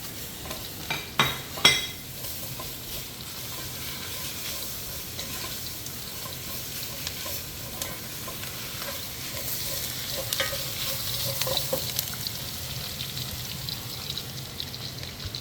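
Tomatoes are stirred in a frying pan, a soft steady sizzle running throughout with a few louder scrapes and clinks of the utensil against the pan near the start.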